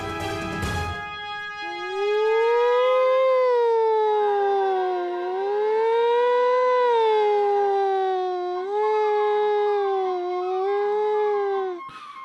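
A voice imitates an ambulance siren with a long, wavering wail that rises and falls several times, sustained and loud, after a brief noisy start.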